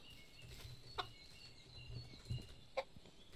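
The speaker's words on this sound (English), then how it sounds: "We got one rooster and two hens." Chickens in the medieval farming game Medieval Dynasty, one rooster with two hens, give a few faint, scattered clucks over a quiet, low ambient background.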